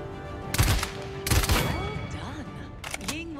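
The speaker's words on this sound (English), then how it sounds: "Your primary weapon is your assault rifle." Assault rifle fire in the video game Paladins: short bursts of gunfire in two loud clusters, then a third brief burst, with game effects and faint voice between them.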